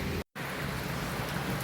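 Heavy rain at Igorot Stone Kingdom in Baguio: a dense, loud, steady wash of downpour noise, broken by a split-second dropout near the start, with no talking.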